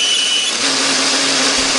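An electric blender whirs loudly and steadily as it grinds candlenut, garlic, shallot and pepper with water into a paste, with the motor tone shifting slightly partway through.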